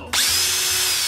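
A video game drill power-up in Super Mario Bros. Wonder whirs up abruptly and spins at a steady high pitch for about a second, loud and close.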